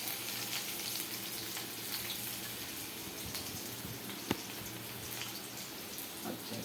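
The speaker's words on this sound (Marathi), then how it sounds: "तो कांदा आता मी भाजण्यासाठी टाकणार आहे" Chopped onion frying in a pan for a Malvani bangda (mackerel) fish curry gives a steady, close hiss of sizzling oil with faint crackles and one sharp clink partway through, no talking.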